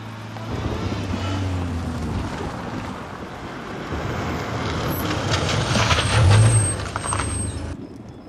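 A heavy truck rumbles close by with a steady low engine drone and wind-like noise, swelling near the end before a faint high hiss of air brakes.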